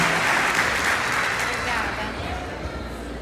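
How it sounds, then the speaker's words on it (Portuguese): A church congregation gives a steady round of applause to welcome a woman pastor to the pulpit, a dense, continuous roar of clapping close by that tapers slightly toward the end. "Você pode recebê-la com uma salva de palmas."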